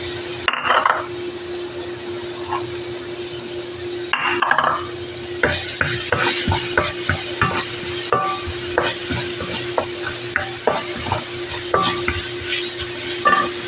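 Onions, added after hotdog slices come out, sizzle steadily in a pan for spaghetti sauce while a utensil stirs and scrapes against the metal in irregular clinks.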